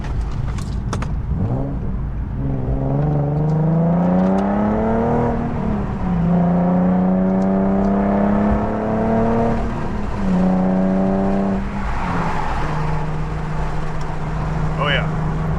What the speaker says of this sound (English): It brings out a little bit more growl from the engine because it's not as muffled.